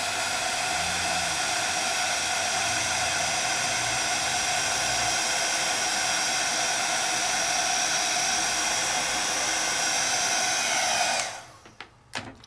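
An embossing heat tool blows hot air in a loud, steady, close-up whoosh for about eleven seconds, then switches off and winds down into a few soft clicks.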